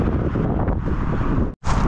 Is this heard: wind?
yes